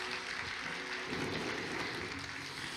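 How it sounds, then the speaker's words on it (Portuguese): Church congregation applauding at a service, a steady broad wash of clapping that swells and thickens after the first second, with faint sustained tones underneath, fairly quiet overall. "Aplauda a igreja, olha só."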